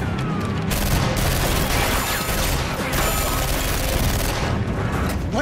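Dense, continuous gunfire and booming from weapons in a Person of Interest action scene, with rapid overlapping shots rattling loudly throughout.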